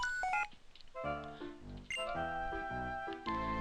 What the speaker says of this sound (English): The extra receiver is ringing.